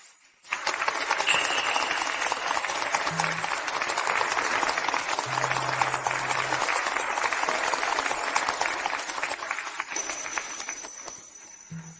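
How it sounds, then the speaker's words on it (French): Warm applause from an audience welcoming guests at a formal event, loud and sustained after a sudden start, thinning toward the end with a few faint tones mixed in. "accueillons-les par une salve d'applaudissements chaleureuse"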